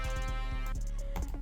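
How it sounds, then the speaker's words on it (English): A single Vinexi brass one-shot sample in FL Studio: a thick, buzzy sustained brass stab that cuts off after under a second, leaving a brief tail, heard dry and alone. "I grabbed this Vinexi brass one shot"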